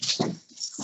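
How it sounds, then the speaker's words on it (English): A pet dog named Tuxie prancing around indoors with a shoe, making brief soft whimpering yips and scuffling movement in close, quick bursts. "That's my dog with my shoe trying to get my attention."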